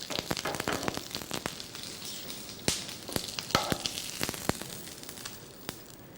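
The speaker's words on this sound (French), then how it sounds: "et puis on va les saisir. Alors, 2 minutes de cuisson de chaque côté." Food sears in a hot pan, giving a continuous crackling sizzle broken by sharp pops and spits, close and fairly steady throughout with no talking.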